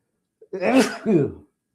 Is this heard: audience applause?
no